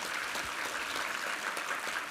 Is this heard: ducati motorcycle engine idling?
no